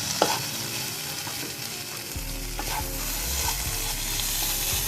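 Brinjal being stirred with coriander leaves in a pan, part of a Bhangan fish curry with potato, with a steady sizzle and scraping stirring strokes, a low hum beneath from about two seconds on.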